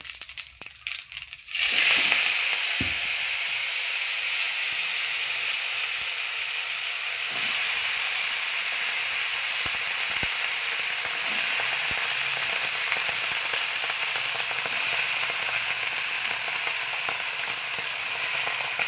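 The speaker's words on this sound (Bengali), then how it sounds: "আগে তেজপাতা দিয়েছি, এখন কালো জিরে দিয়ে সবজিটা আমি ছেড়ে দেবো।" Vegetables drop into hot oil tempered with bay leaf and black cumin and set off a sudden loud sizzle. The steady hiss then carries on for a long stretch with a few faint clinks.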